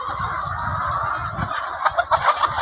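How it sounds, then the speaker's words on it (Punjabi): Hens cluck at a poultry egg farm in a Punjabi village, a close, busy jumble of short clucks and calls with a few louder bursts near the end, and no talking. "ਮੁਰਗੀ ਖਾਨਾ"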